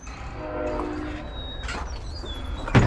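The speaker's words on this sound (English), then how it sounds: "Now I hear a train" A train rumbles past steadily in Marceline, Missouri, with a brief horn tone early on and a sharp clank near the end, moderately distant.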